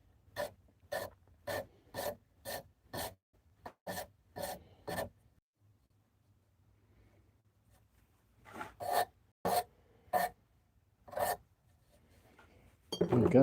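A Shinto saw rasp files wood in steady, evenly spaced strokes, a run of rhythmic rasps, then a pause and a few more close, loud strokes.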